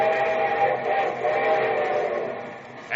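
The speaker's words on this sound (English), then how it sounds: "And here comes our star-studded show train." A show train arriving in an old radio sound effect, its whistle sounding steadily over a rumbling run for the whole stretch, fairly loud and alone with no voices.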